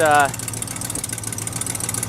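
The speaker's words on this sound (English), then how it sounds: "Boom, up she comes, and you can hear that exhaust leak" A car engine idles under an open hood with an exhaust leak, giving a steady low rumble with a faint pulsing chatter throughout, after a brief voice at the start.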